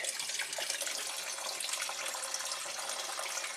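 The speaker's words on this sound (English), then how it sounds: "let me just pour in a bit of fresh gas" Fresh gasoline poured into a fuel pan taken off a '67 Triumph GT6, a steady, faint splashing liquid pour that runs without a break from start to finish.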